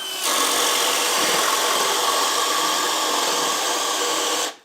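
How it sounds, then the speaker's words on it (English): A cordless drill set to speed 3 bores into wood, its loud, steady whine holding for over four seconds before stopping abruptly, with no voices over it. "Alright, so speed 3, it's on drill."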